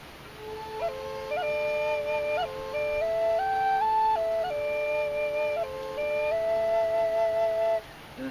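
Rivercane triple drone flute with two chambers sounding together: a steady low drone note held beneath a breathy melody of sustained, stepping pitches, moderately quiet and continuous, no talking.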